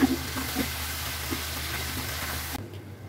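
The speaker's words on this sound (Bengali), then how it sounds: "ভাজা ভাজা করে নিচ্ছি।" Chicken frying in spices in a pan for budget biryani, a steady close sizzle with faint stirring scrapes that stops abruptly near the end.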